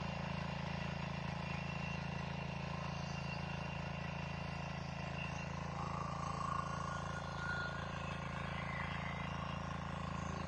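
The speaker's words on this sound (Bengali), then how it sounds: "শক্তিশালী মেশিন" A 10-horsepower mini tiller engine runs at a steady, even drone with a low mechanical hum, continuous and fairly quiet throughout.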